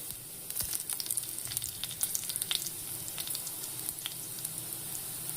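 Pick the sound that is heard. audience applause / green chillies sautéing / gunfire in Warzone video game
green chillies sautéing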